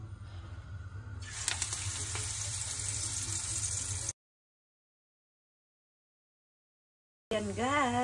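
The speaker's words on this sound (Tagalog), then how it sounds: "Mainit na rin yung aking kawali. Ayan, start na akong mag-fried." Vegetable patties like okoy fry in a hot pan at home, giving a steady bright sizzle that swells after the first second, breaks off into silence midway, then returns with a rippling hiss.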